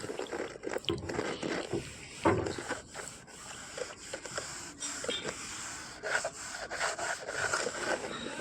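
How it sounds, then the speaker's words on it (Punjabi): A trowel scrapes and smooths fresh molding plaster on a construction job, a continuous gritty rubbing with uneven strokes and occasional harder scrapes, fairly close and steady throughout. "ਗਰਮਾਲੇ ਨਾਲ ਚੰਗੀ ਤਰ੍ਹਾਂ ਇਹਨੂੰ ਸਾਫ਼ ਕਰਾਂਗੇ"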